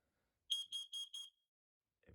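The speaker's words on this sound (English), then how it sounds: "we gotta test the carbon monoxide alarm" Carbon monoxide alarm beeping during a test, four sharp, loud, high-pitched beeps in quick even succession, then silence before a faint rustle.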